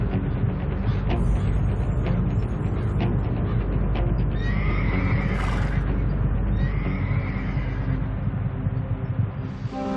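Wild horses play fight as in a dominance battle, letting out loud, drawn-out neighs and squeals over constant heavy rumbling and scuffling noise, with a second whinny following the first.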